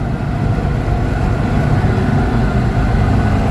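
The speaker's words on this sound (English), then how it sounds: "It's got a little bit of pickup to it with that Duramax in here." A loud, steady Duramax diesel engine drone with heavy low rumble and road noise, from inside a 1998 Hummer H1 hard top cruising or gathering speed toward 70 mph.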